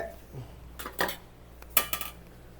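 A metal lid clatters back onto a cooking pot of pork rib kaldereta, two or three sharp clinks and a short rattle, close and fairly quiet.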